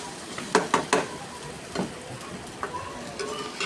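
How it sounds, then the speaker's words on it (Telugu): Chopped onion, tomato and green chilli pieces fry softly in oil for okra fry, a faint sizzle broken by a few sharp utensil clinks and stirring taps. "ముందుగా కట్ చేసి పెట్టుకున్న ఉల్లిపాయ ముక్కలు, టమాటా ముక్కలు, పచ్చిమిరపకాయ ముక్కలు నూనెలో బాగా వేయించుకోవాలండి"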